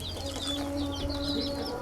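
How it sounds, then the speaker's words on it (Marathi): Small chicks peep in a coop, with high, rapid chirps repeating continuously over a steady background of farm noise. "तर इकडल्या साईडला आहेत बारकाले पिल्ले"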